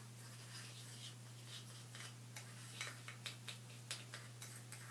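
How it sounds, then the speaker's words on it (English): Brown sugar and coconut oil are stirred together with a small plastic knife, a soft series of quiet scrapes and light taps over a low steady hum, close up. "I'm just going to take my little plastic knife right here and stir this together"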